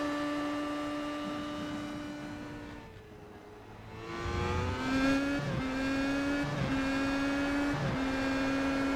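A race car on the Suzuka circuit in iRacing: its engine drones at a steady pitch, dips briefly, then climbs again through a series of upshifts, each marked by a short drop and rising whine as it accelerates.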